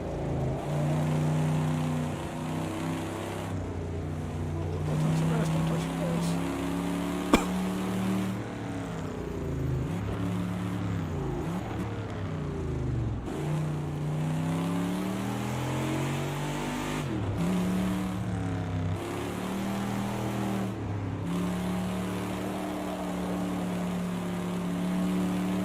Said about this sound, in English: Skidding across this entire turn trying to catch up.